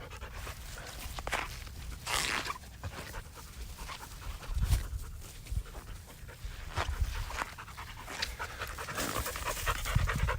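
A dog on a riverbank during a fishing trip pants rapidly and steadily close up, with a few soft footsteps and faint whimpers mixed in.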